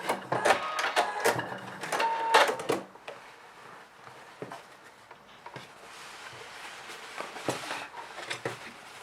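Sewing machine topstitching and backstitching a jeans back pocket, a short burst of rapid mechanical stitching chatter up close, followed by softer scattered clicks and handling noises.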